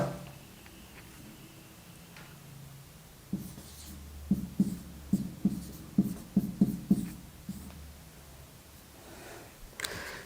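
Chalk or marker writing on a board during a classroom lecture, heard as a quick series of close, distinct tapping strokes in the middle against a quiet room hum, with no speech.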